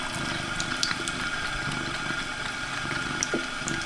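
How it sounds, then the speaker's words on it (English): A cat laps water from a running pet water fountain, with the pump's steady trickle and hum filling the clip and small lapping ticks and splashes scattered on top, close and continuous. "I need to show y'all how my cat drinks water"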